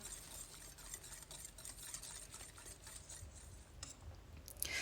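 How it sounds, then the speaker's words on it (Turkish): Steady scraping and stirring of cream in a pot until it boils, a continuous soft swishing texture with faint clicks, close up and without talk. "tüm malzemeleri kaynayıncaya kadar karıştırarak pişiriyorum"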